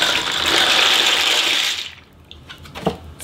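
Pasta shells poured into a pot of boiling salted water make a loud, close rushing splash for about two seconds, then fall away to a quiet bubbling with a few faint clinks.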